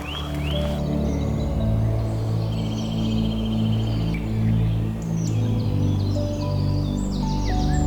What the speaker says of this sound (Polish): Prawdopodobnie też jesteście w stanie usłyszeć ten porażająco intensywny śpiew ptaków.